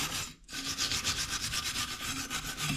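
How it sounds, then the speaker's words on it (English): Wire brush scrubbing dirt off rear brake rotor bolts, a rapid rhythmic scratching with close, even strokes that continue throughout after a brief pause near the start. "You can wire brush all the dirt off."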